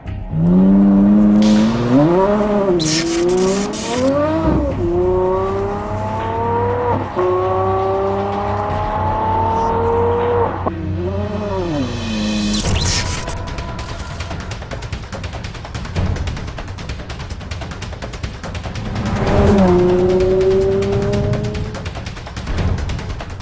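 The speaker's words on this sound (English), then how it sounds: "When you finally see the car moving, there's an amazing sound to the engine" Aston Martin One-77 supercar engine running loud and close, revving up in rising sweeps with sharp gear-change breaks, then settling to a steady drone before a final climbing rev.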